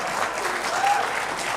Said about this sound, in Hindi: तालियां बजा अच्छा रहे ठीक है